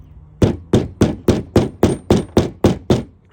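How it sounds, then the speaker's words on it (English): A flat-faced hammer crushes folded wire on a Subaru R180-R160 hybrid rear axle: nine loud, close metallic blows at a steady, even rhythm with short pauses between them. "get your hammer, something with a flat face on it"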